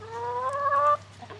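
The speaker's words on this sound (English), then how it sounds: "Yes, girls, get all those bugs." A hen in a fall garden, picking at bugs, gives one drawn-out, close cluck lasting about a second, followed by a short, fainter sound from the flock.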